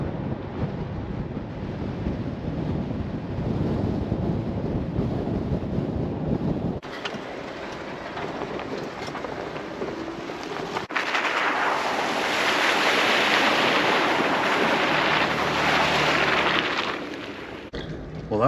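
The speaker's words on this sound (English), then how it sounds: "that was an unexpected water crossing" Vehicle driving through an unexpected water crossing on a dirt road near Goblin Valley State Park, with a loud rushing, splashing wash that swells midway and holds for several seconds, mixed with wind buffeting the microphone.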